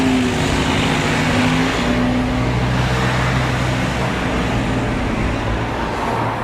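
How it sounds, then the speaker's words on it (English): A small Alexander Dennis Solo SE single-decker bus on London route R8 runs with a continuous, loud engine drone and road rumble close by, with no break. "Here, for instance, is R8, worked by the ever so tiny Solo SE."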